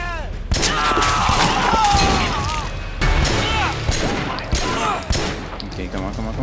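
Gunfire in the Triad Wars video game crackles in loud, dense volleys with sharp individual shots and impacts throughout, layered with chaotic game effects.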